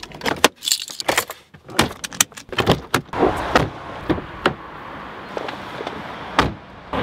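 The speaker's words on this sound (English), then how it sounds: "It's still just so fascinating that you can open and close a car just with your phone." Car doors, locks and latches being worked as a car is opened and closed remotely with a phone, giving a run of sharp clicks, clunks and jangling knocks, loud and close at first, then sparser over a low hum.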